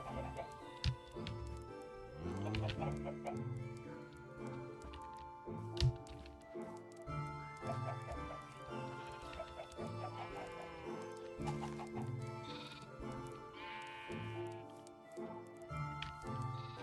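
Chickens clucking in the Minecraft modpack GregTech New Horizons, repeated short clucks and squawks spread through a busy mix of game sounds and low tones, moderately quiet with no talk.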